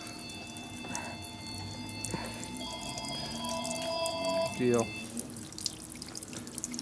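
Fuel trickles and drips steadily from the petcock of a 2001 Indian Scout with an 88ci S&S big-bore motor, splashing nearby under a faint background tone, with a brief spoken word.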